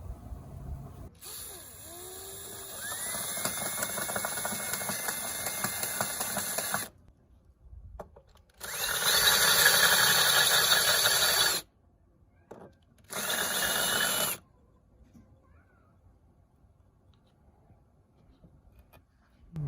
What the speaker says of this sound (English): we're going to use that bigger bit to just kind of notch this out and chamfer that hole so that it's tapered